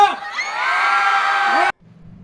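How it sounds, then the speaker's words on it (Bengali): A crowd cheering and shouting at a village fair, a loud burst of whoops and yells that cuts off abruptly after a couple of seconds. "একটু জোরে করতালি হয়ে যাক চিৎকার হবে"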